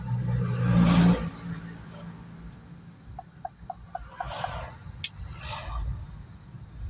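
A vehicle passes on a low-visibility road, a broad engine rumble that swells and fades early on, followed by fainter traffic swells and a few sharp ticks.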